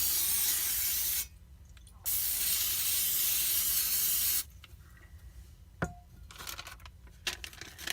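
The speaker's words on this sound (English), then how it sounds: "I'm going to spray this bread with some butter flavored spray." Butter-flavored cooking spray hisses onto bread in two long, close bursts, the first about a second and the second about two and a half seconds, followed by quieter handling noises and small knocks.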